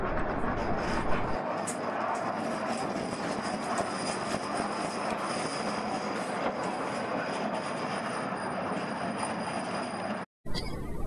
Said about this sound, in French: le funiculaire arrive et repart comme un fantôme dans le brouillard